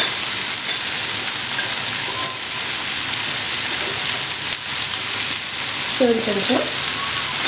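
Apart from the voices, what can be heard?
spices and red chili powder sizzling while frying in kadai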